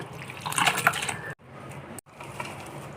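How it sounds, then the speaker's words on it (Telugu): Two small vessels of water splash and pour into a pot for dal with spinach in a short burst, followed by quieter trickling after a pause. "వాటర్ పోసేసుకుంటున్నాను రెండు లోటాలు వాటర్ పోసుకోవాలండి"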